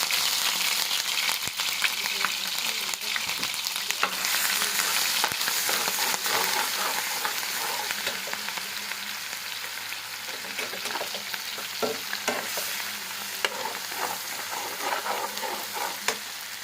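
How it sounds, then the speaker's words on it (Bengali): Chopped garlic and ginger crackle and sizzle in hot oil, a dense, continuous frying hiss with scattered pops that holds steady throughout. "এই যে তেলগুলো গরম হয়ে গেছে এখন আমি রসুন কুচিগুলো দিয়ে দিচ্ছি সাথে আদা কুচি"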